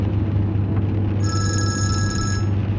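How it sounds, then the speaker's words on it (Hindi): A telephone rings once in a short electronic trill over a steady low engine rumble. "जरा देखो उमर मुझे फोन कर रहा है।"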